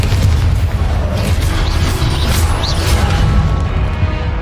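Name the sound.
Confringo blasting spell explosion in a Hogwarts video game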